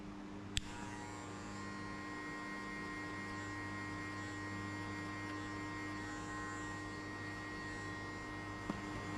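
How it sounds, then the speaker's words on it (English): A half-open hair clipper cutting a fade guideline gives a steady close electric buzz that runs unbroken throughout, with a couple of sharp clicks, one near the start and one near the end. "We put half open clipper and we hit only on this line."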